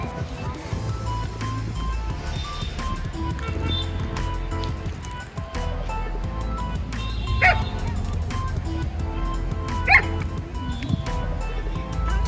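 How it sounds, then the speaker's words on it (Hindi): A chained German shepherd on a farm barks and yips repeatedly in short bursts, moderately close, with people talking in between. "और यही है वो जर्मन शेफर्ड।"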